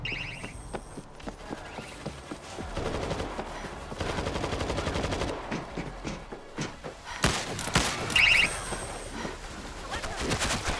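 Auto turret gunfire in the World War Z video game crackles in rapid bursts amid game music and effects, growing louder and denser toward the end.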